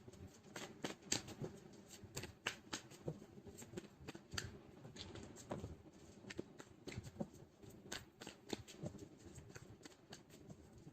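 Tarot cards being shuffled and pulled, a dense run of close, quiet riffling flicks and taps that continues without pause and without talk.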